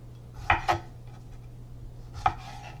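A knife cuts fruit on a board for a spinach fruit salad, with two quick close chops followed by a third single cut after a short pause, against a quiet kitchen background.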